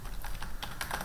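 Notes are typed on a computer keyboard in a steady, close run of quick key clicks that continue throughout with no talking, ending on a slightly heavier keystroke.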